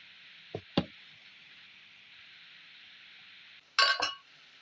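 A few dull knocks and a clinking thud as a container is pressed down onto dough to cut kuzhalappam, over a steady background hum.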